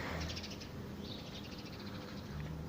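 Small birds chirp faintly overhead in an outdoor spot, thin high calls scattered over a steady broadband background hiss, with no talking.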